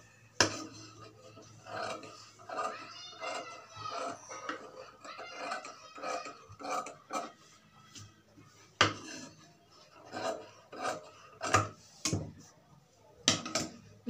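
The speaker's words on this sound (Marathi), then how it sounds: "आता हे जे राहिलेलं आहे ते आपण कट करून काढूया" Leftover cloth being cut away with scissors: a series of crisp metallic snips and clicks in irregular bursts, close and fairly quiet, with brief pauses between cuts.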